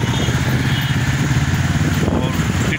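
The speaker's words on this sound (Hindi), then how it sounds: "बहुत गजब बाइक चलाते हैं साहब दिल्ली में, अखिल शर्मा जी।" A motorcycle rides through South Delhi traffic with a steady, loud engine drone and road and wind rush throughout. Street noise is mixed in.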